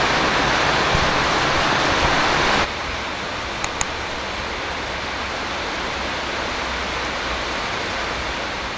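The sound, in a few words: heavy rain in Vietnam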